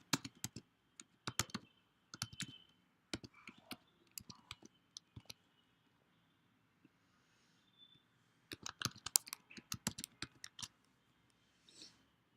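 Someone types a Wi-Fi network name and password on a computer keyboard in quick bursts of crisp, close key clicks, with a quiet pause in the middle before a second flurry of keystrokes.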